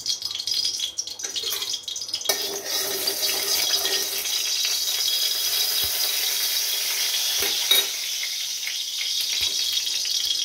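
Potatoes fry in oil in a pan before broccoli is added, a steady close sizzle with occasional stirring scrapes and clinks.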